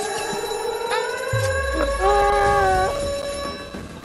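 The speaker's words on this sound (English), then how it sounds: "Bro, who set up the alarm?" An alarm rings in a Fortnite game, its steady repeating tones running under the room's chatter, with a low thump near the middle and a brief rise in level partway through.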